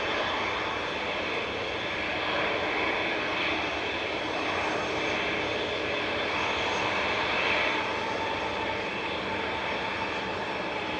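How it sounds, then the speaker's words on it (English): A Ryanair jet leaves Manchester Airport for Lanzarote, its engines a steady, powerful roar that rises and falls slightly over several seconds, heard from afar with no voices. "Ryanair to Lanzarote departed just while we were changing those settings with flight 2131"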